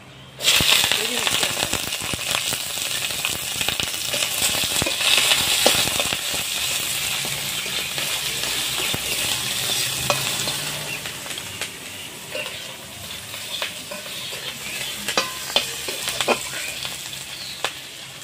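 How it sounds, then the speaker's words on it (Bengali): Onion, garlic and green chillies hit hot oil already tempered with bay leaf, dried chilli and panch phoron, setting off a loud, steady sizzle close by that runs throughout, with occasional scraping of a stirring spoon. "পেঁয়াজ, রসুন, কাঁচা লঙ্কা তেলের উপর দিচ্ছি।"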